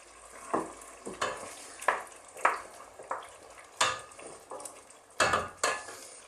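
Roughly chopped canned tomatoes tipped into a pan with leeks and garlic for an Italian chicken stew, landing in a series of about eight sharp wet scrapes and thuds with a light sizzle and utensil clatter, close and clear with no talking.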